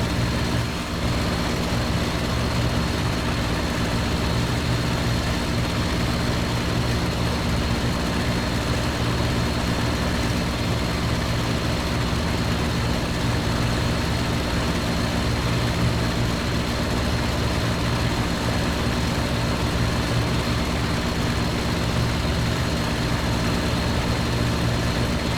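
Messerschmitt Bf 109 engine held at full power in the IL-2 1946 flight sim, a steady loud propeller drone with a deep, unbroken low rumble, no voices.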